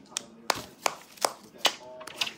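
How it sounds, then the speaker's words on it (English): A young girl claps her hands about six times in a fairly even rhythm, sharp and close, with voices talking quietly around the claps. "Clap your hands, princess."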